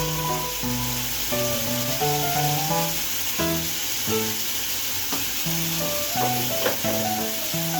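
Ground spices, Kashmiri chilli, coriander and cumin powder, sizzle steadily in hot oil in a pan, a loud continuous frying hiss with faint stirring, while tonal music plays underneath.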